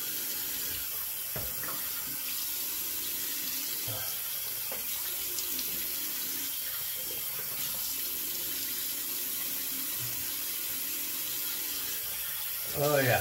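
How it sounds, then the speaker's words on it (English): Tap water runs steadily into a sink as a razor is rinsed during a wet shave, a constant close hiss with faint clinks and splashes and brief background voice. "We'll give it a quick rinse."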